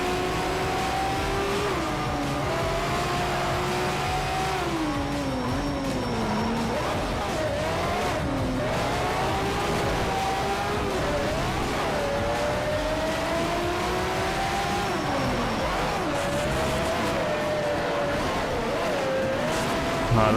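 A race car in Need for Speed: Shift roars nonstop as its engine whine sweeps up and down through gear changes and hard acceleration, loud and close, with occasional tire squeal mixed in.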